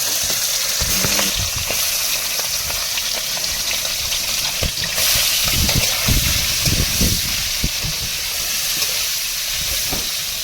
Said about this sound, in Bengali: তো তেল আমাদের গরম হয়ে গেছে আর গরম হয়ে গেছে এবারে মাছ দিয়ে দেবো